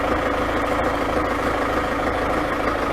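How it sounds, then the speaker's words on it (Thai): A steady, loud diesel engine of a CX30 excavator drones close by, its revs dropping under hydraulic load, holding a constant low rumble throughout with no voices. "ได้ยินเสียงเครื่องยนต์ดรอปลงไปไม่ต้องตกใจนะครับ"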